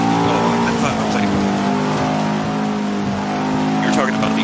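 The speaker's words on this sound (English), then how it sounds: "I got some all-wheel drive car going by me" An all-wheel drive race car in the video game Forza 7 passes with a loud, sustained engine roar that holds a steady high-revving tone throughout, while people talk over it.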